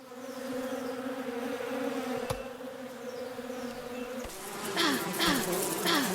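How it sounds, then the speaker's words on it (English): Bees in the video game Above Snakes buzz steadily with a droning hum, joined partway through by brighter, louder buzzing and a few sharp clicks. "We got some bees already."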